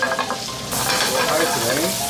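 Garlic sizzles and fries steadily in a hot pan with butter, a loud continuous crackle that swells as it hits the fat, with faint stirring.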